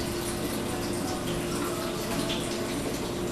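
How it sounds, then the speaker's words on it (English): Wort from the mash runs slowly into a boiling kettle during homebrewing, a steady wash of pouring and splashing liquid that holds an even level throughout. "we're just very slowly starting to pour the wort as it comes off of the mash into the boiling kettle"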